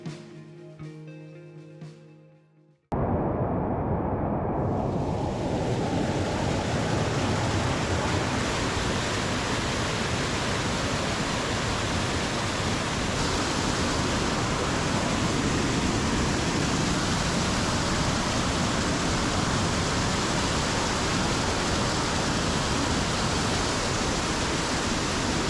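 A waterfall on Archer Mountain in Washington, a chilly creek flow with rappels: after a few quieter seconds, a loud, close, continuous roar of falling water takes over and stays constant to the end, with no voices.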